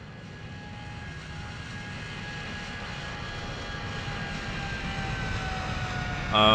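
Magknight 787 airliner taking off in the X-Plane 11 flight simulator: a steady, loud jet engine roar with a low rumble and faint whining tones, swelling slightly louder near the end.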